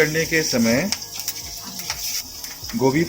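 Slit green chillies frying in hot oil for tehri: a steady high sizzle underneath someone talking throughout.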